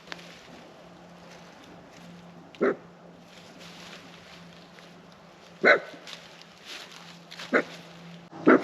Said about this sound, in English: So if you hear her barking or crying, she's safe, she's fine, she's just angry.